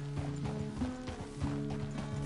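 Horse hooves clip-clopping at a steady walk in Red Dead Redemption 2, close and moderately loud, with a tonal musical bed underneath and no speech.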